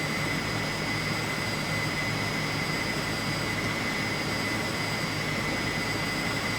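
A McDonnell F2H-2 Banshee jet in Flight Simulator 2020 produces a steady, unbroken engine roar with a high whine, constant and loud from start to finish, with no voices.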